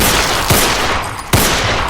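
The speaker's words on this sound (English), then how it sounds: "And then there are 3 loud gunshots." Three sharp, loud gunshots ring out in quick succession, each a sudden blast with a brief echoing tail.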